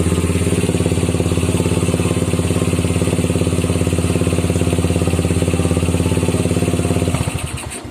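A Yamaha Jupiter Z motorcycle fitted with a Vega ZR CDI idles loudly and steadily close by with a rapid, even throb, then cuts out near the end.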